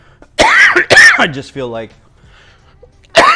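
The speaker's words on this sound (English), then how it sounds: "that cough's kicking in again." A person clears their throat and coughs a few times amid casual talk during a live building session of a Creator VW Bus set, the rough bursts mixing with speech.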